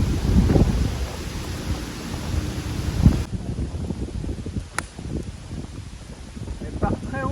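Heavy rain and gusting wind during a storm on a golf course, a loud continuous roar with rumbling low swells, buffeting the microphone, while a voice talks over it briefly.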